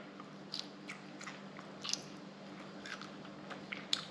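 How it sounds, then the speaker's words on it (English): Overcooked squid, freshly caught and cooked, is chewed with soft, irregular crunchy bites and squishy mouth sounds, quiet and close, with no talk. "See how hard that is to chew?"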